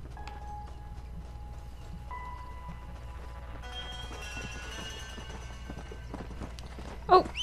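Horse hooves clip-clop in a steady rhythm as a horse runs in the Red Dead Redemption video game, set against sustained music tones, with a sharp louder burst near the end.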